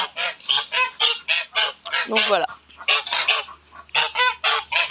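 Wild English Rouen ducks and other farmyard waterfowl honk and quack in a rapid run of loud, close calls, with a brief spoken phrase among them.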